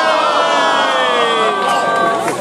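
A large audience at a concert roars and cheers in one loud, unbroken wall of voices, with shrill whoops and yells rising above it throughout.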